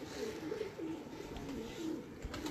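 Breeding pigeons on a rooftop, low repeated coos over a steady wash of background noise, moderately near, no voices.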